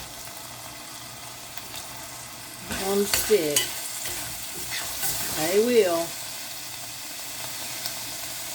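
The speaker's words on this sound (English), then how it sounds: "Hear the sizzle?" Green beans fry in a hot pan, a steady soft sizzle with two bursts of louder stirring and crackling midway; a few brief words are spoken.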